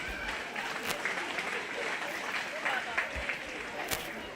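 Round of applause from spectators at a 4-H/FFA youth cattle show, a moderate, steady patter of clapping with a few sharper individual claps standing out.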